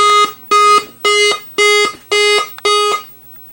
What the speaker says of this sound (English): it gave me 6 beeps